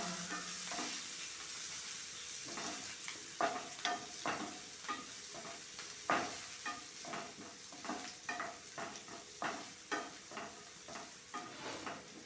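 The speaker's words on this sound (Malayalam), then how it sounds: "പിന്നെ കറിവേപ്പില എല്ലാം കൂടി ഒന്ന് 2-3 മിനിറ്റ് വഴറ്റുണ്ട്" Green chillies and curry leaves sautéed in a little oil in a pan for oats upma, a continuous close sizzle broken by a steady rhythm of spatula scrapes and taps, with no talk.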